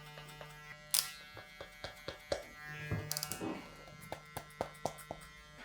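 Electric hair clippers taper a neckline during a crop fringe haircut for thinning hair, a quiet buzz broken by repeated short ticks and snips of cutting close by.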